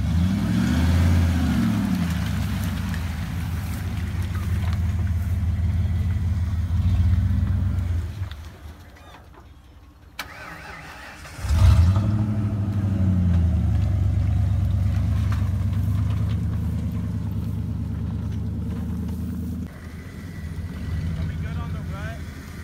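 A Ford Raptor truck crosses a river, its engine droning low and steady, dropping away briefly and then returning, with water washing around it and people talking over the noise.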